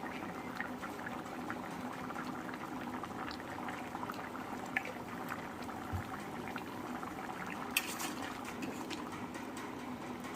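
Pumpkin curry simmering in a pot, a soft, steady bubbling with small pops and occasional louder blips, close but quiet and unbroken.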